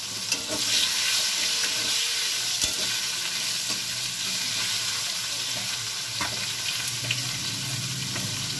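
A whole tomato drops into hot oil with dried red chilli and whole cumin, setting off a steady, loud sizzle and crackle with a few sharp spits, close by and with no talking.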